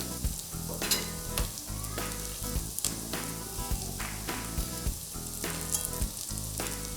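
Curry leaves and vermicelli fry in a pan for mango semiya pulihora, making a loud, continuous sizzle broken by repeated sharp stirring clatters at an uneven rhythm, close up and without speech.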